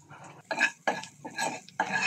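Shrimp and spinach frying in a pan are stirred with a utensil, giving several short scraping and clinking strokes in an uneven rhythm, close and fairly loud with faint sizzling between.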